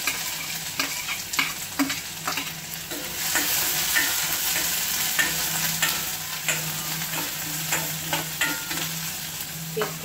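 Onion and garlic frying in hot oil in a wok, with a steady sizzle and frequent scraping stirs of a utensil against the pan, close and continuous with no talking.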